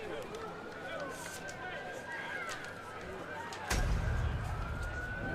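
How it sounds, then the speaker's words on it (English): A faint siren wails in the distance beneath crowd noise and talk at a varsity football game, with a louder rumble of noise swelling near the end. "Hear the sirens in the background"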